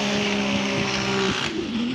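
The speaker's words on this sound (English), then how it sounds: "On the throttle, the VQ powered 370Z. You can hear him lifting quite a bit" VQ-powered Nissan 370Z race car in qualifying at Atlanta 2018, its engine droning loud and strained as the driver lifts on and off the throttle, pitch dipping and rising with a brief break in the note.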